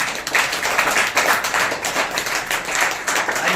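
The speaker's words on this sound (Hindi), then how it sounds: "ताली बजा के परमेश्वर का स्वागत करेंगे" A church congregation clapping together to welcome God, dense rhythmic hand claps from many people filling the room steadily for a few seconds, with faint voices underneath.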